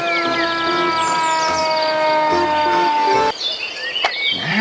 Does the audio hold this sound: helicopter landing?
no